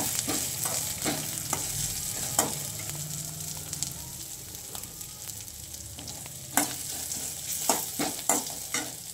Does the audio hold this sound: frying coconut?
yes